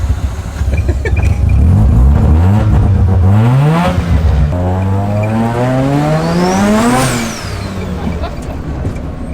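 A rotary engine swapped into a Datsun revs hard and climbs in pitch, falls back, then surges again to a high, buzzing peak before dropping off, loud and close.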